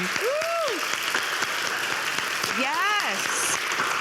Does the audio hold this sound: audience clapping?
yes